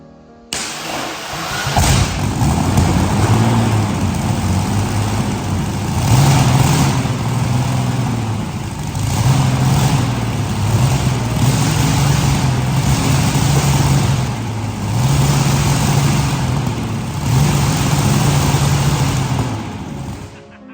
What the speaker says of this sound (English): it was time to test run the mighty V12 for the first time